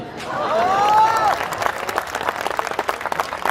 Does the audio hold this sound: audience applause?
yes